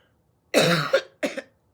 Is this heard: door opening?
no